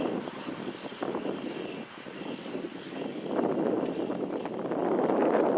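A John Deere 8420 tractor pulls a land plane across a disced field for tomato ground leveling, its engine a steady rumbling drone that swells louder toward the end, with no voices.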